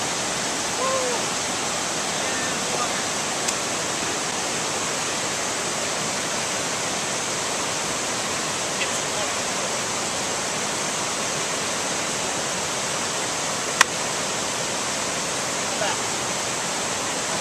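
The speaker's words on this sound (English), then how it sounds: "I think we found the creek." A creek on the Lost Creek golf course rushes in a steady, broad wash of flowing water that never lets up, with a few faint clicks over it.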